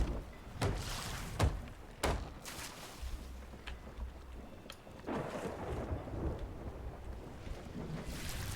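A thunderstorm at sea in the video game Sea of Thieves: several sharp thunder cracks come in quick succession early on, then gusting wind and rushing water roar on.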